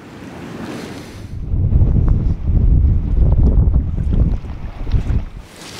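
Strong wind gusts buffet the microphone at a stillwater trout lake, rising into a loud, sustained roar with rushing waves and surf on the water, easing off near the end; no talking.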